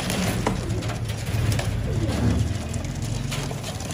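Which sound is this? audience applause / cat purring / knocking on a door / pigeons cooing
pigeons cooing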